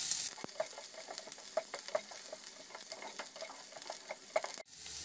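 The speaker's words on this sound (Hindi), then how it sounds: "प्याज को हम हल्का सुनहरा होने तक भून लेंगे।" Onions and green chillies fry in a pan with a steady, bright sizzle. A spoon scrapes and taps in an irregular rhythm, and the sound cuts off briefly near the end. No one speaks.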